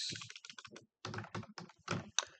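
Rapid irregular keystrokes on a computer keyboard while writing a getAccount method for a banking system program, in several close bursts with a short pause around the middle, no voice.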